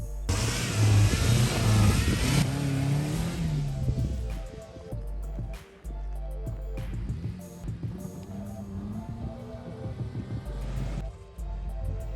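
An off-road-modified Toyota RAV4 engine revs hard, with loud rising and falling pulls, then uneven throttle blips and rough idling nearby, with clunks in between.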